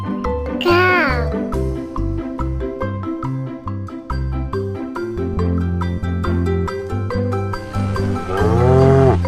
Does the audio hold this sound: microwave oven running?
no